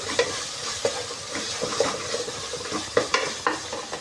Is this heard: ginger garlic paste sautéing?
yes